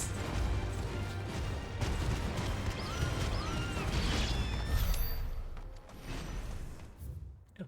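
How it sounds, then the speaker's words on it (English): Fireworks explode in the video game Final Fantasy XVI, a dense run of booming bursts and crackles with whistling streaks rising between them, loud and close, fading toward the end. "It's fireworks!"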